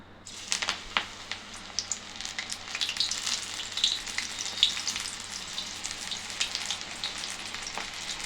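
Sweet corn vada batter sizzles and crackles in hot oil, a dense steady frying hiss with small pops throughout, close and fairly loud, with no talking.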